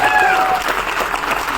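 An audience at a direct-selling business event breaks into loud, sustained clapping, with a voice carrying over the applause and a short whistle-like tone at the start.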